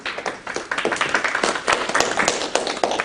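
An audience at an in-house real estate agent video training session claps, a brisk, crowded burst of overlapping hand claps close by, with a slight unevenness as individual hands stand out.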